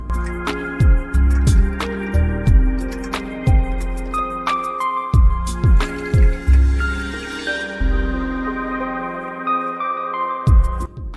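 Water rushes into a toilet cistern through a newly fitted Geberit type 380 fill valve, giving a steady filling hiss with repeated sharp drip-like knocks and gurgles, close and fairly loud, with the flow tapering near the end.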